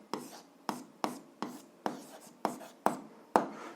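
Pen strokes writing out an algebra solution on paper, eight crisp scratchy taps and scribbles in an even rhythm, close and quiet with no talk.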